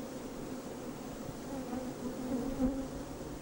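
Bees buzz steadily around the rudimentary beehives of transhumant beekeepers in Tibet, a continuous close insect drone that swells slightly near the end, with no voices.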